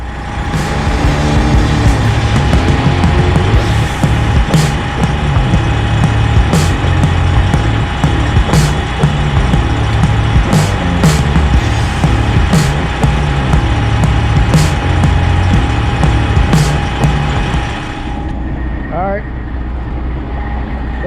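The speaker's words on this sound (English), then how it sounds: "engage the pump and slowly let off the clutch" A fuel delivery truck's engine runs steadily with its power-take-off pump engaged, a loud, continuous mechanical drone with a sustained tone and scattered sharp clicks, before the rumble drops off near the end.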